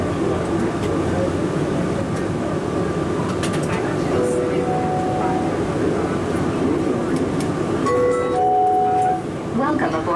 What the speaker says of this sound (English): Welcome aboard the plane train.